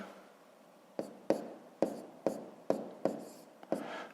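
A pen writes numbers by hand during a fifth-grade math exercise, giving a run of about eight crisp, evenly spaced taps and short scratches, close and fairly quiet.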